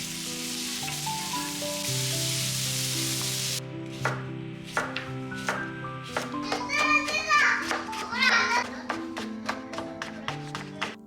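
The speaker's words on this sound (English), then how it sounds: "To the pan on medium heat, add oil along with Hijuki seaweed" Hijiki seaweed frying in oil in a pan over medium heat: a loud, steady hiss for a few seconds, then a run of sharp, close clicks and taps from stirring against the pan.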